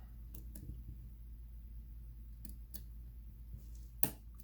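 A lock pick clicks inside a challenge lock, giving a few faint, sharp ticks spaced unevenly over a steady low hum, with one slightly louder click near the end.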